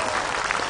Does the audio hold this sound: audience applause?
yes